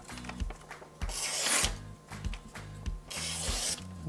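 A very sharp Victorinox RangerGrip multitool knife blade cuts through material, with two loud bursts of rasping, scraping strokes between quieter scratching and low handling knocks, close up and without talk.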